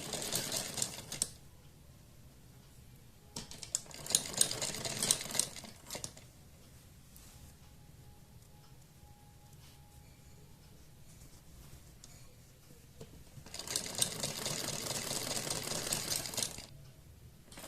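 A sewing machine stitching a puff sleeve onto a blouse, running in three bursts of fast mechanical whirring separated by quiet pauses, close and without talk.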